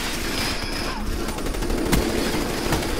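Shotgun fire in the first-person shooter Call of Duty: Black Ops III, sharp blasts popping through a dense, noisy battle mix with other gunfire around.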